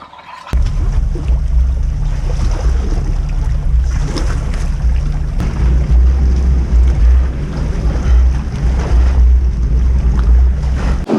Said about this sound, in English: head down to the water and put the Seadoo in the waters of Georgian Bay